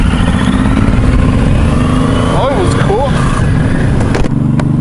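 A Suzuki M109R motorcycle engine runs nearby with a steady, loud low rumble, while someone talks over it throughout.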